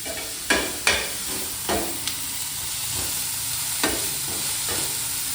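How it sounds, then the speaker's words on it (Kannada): Mint leaves fry in hot oil in a pan for veg biryani, a steady close sizzle broken by a few sharp stirring scrapes. "ಅದನ್ನು ಸ್ವಲ್ಪ ಚೆನ್ನಾಗಿ ಫ್ರೈ ಮಾಡ್ಕೊಳ್ಳಿ"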